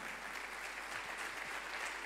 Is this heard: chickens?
no